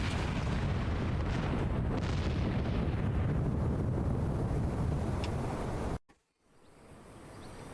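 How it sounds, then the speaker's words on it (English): A massive main tower collapses under cannon fire in Final Fantasy XIV, a sustained loud rumbling roar of crumbling and explosions that cuts off abruptly near six seconds, followed by a quiet dip and low rising ambience. "The main tower just collapsed. You heard it too, didn't you?"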